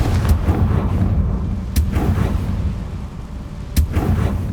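A Confringo fire spell blasts in Hogwarts Legacy. Sharp bursts crack out at intervals over a rumbling game background, each followed by a short fiery roar.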